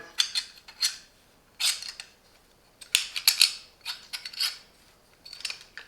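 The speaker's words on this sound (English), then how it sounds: "Just unscrew that, rotate, find the right position you want, and then just tighten it again." Metal clicks and scrapes from a Parkside bench vice with cylinder attachment as its swiveling ball joint is loosened, rotated and retightened, several short separate bursts of mechanical rattling, close up and fairly quiet.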